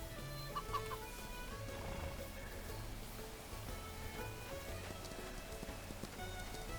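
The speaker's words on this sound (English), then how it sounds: "Good morning, chickens." Chickens on a farm ranch in The Ranch of Rivershine game cluck repeatedly over a soft ambient bed with light clip-clop and patter, continuous and moderately quiet, no talk.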